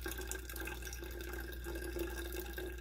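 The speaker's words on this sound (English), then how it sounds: "Filtered water, and I'm just going to top this up until it hits 200 grams" Filtered water runs steadily into a flask for a homebrew yeast starter, a continuous close trickling stream over a low steady hum, with no talking.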